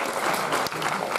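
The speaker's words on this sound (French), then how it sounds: "Vous pouvez l'applaudir" Brief burst of audience applause at a film screening discussion, many hands clapping together in a thick, continuous wash that carries evenly to the end.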